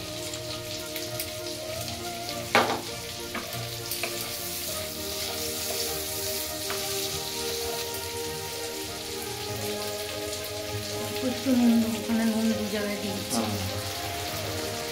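Chopped onions fry in a pan, giving a steady close crackling sizzle like rain on a surface that runs throughout, with a few stirring clinks and knocks along the way and no one talking.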